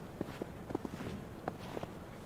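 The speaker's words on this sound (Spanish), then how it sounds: "Y lo único que podía escuchar era el sonido de sus propias pisadas." Soft footsteps walk at a steady pace beneath a pedestrian bridge, faint and somewhat distant, about eight light treads across two seconds with no voices.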